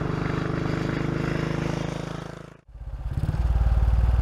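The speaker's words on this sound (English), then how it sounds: "Old bikes like this B31 provide a novel riding experience, even in towns and villages." BSA B31 single-cylinder motorcycle riding through town: a steady, close, thumping engine note that dips sharply for a moment before the beat picks back up, loud and alone without talk.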